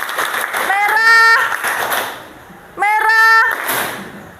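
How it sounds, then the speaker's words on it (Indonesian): A school class claps together in a classroom during a lesson, two loud bursts of applause separated by a short lull, with voices ringing out over the clapping. "Oke, tepuk tangan"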